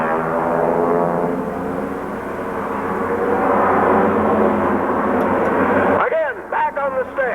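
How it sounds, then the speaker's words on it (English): Four airplanes in diamond formation climbing into a loop at a 1995 Knoxville, Tennessee air show, a loud sustained engine roar that swells and then fades away. Crowd noise and voices follow. "All four of those airplanes going straight up in a diamond formation."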